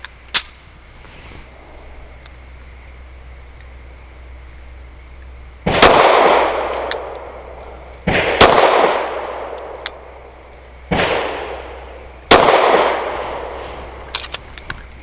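Four sharp pistol shots from an Avidity Arms PD10 firing 147 grain Federal HST rounds outdoors, spaced a couple of seconds apart, each a loud crack followed by a decaying echo and faint casing clinks.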